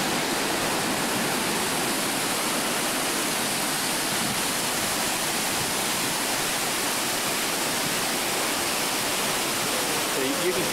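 Rushing waterfall heard from its top, a steady, loud broadband roar of falling water and spray with no breaks throughout.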